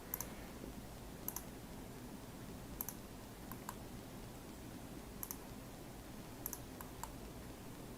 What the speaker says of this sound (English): I'm just clicking on that little piece.